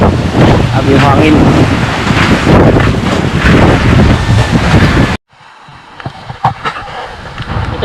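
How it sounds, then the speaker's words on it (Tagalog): Strong Typhoon Tino wind roars over the sea near the shore of Canipo Island, loud and steady with heavy microphone buffeting, then cutting abruptly to quieter gusts and scattered thumps. "Abi yung hangin."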